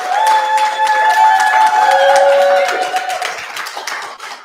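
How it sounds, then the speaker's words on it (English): Audience applause at an annual membership meeting following a comedian's talk, a dense wash of clapping hands with some cheering, loud and sustained before tapering off near the end. "Round of applause."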